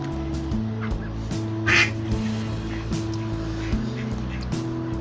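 Ducks quack outdoors while being fed chips, a few close calls over a steady low background hum, with one louder burst partway through.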